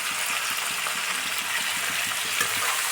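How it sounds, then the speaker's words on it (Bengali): Raw bottle gourd frying with salt and turmeric alongside beans and eggplant gives a loud, continuous hissing sizzle in the pan, steady throughout with no voices. "নুন আর হলুদ দিয়ে ভেজে নেব দেখো আমি কাঁচা লাউটাও দিয়ে দিলাম"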